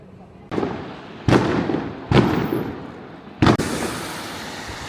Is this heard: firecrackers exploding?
yes